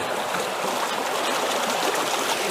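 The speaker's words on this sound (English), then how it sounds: "Just going to dump it on in" Gravel dumped from a bucket into a sluice box while prospecting for placer gold in Wicklow, a dense, steady rush of flowing water and rattling stones heard close and loud, with no voices.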